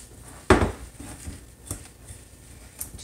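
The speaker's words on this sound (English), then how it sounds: "Just bring that together, mix, mix, mix." A spoon knocks once sharply against a bowl, then scrapes and taps softly while peanut butter ball ingredients are stirred together, close and with no voices.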